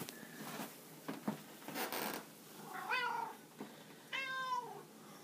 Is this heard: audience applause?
no